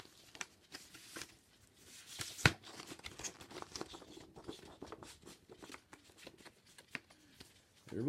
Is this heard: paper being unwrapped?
yes